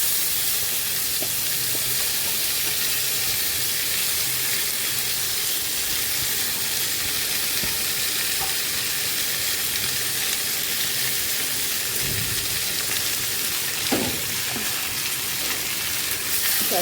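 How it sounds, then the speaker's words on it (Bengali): Mashed red lentils and potato fry in a hot pan, giving a steady, loud sizzle and hiss that runs the whole time, with a few soft stirring knocks and no voices. "এটা এখন ভাজি করে নেব।"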